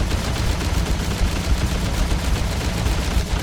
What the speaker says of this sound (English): They have such basic AI that they just don't ever stop shooting you.